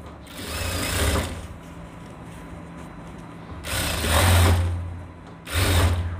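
A sewing machine stitches a belt onto trousers in three loud whirring bursts, separated by quieter pauses.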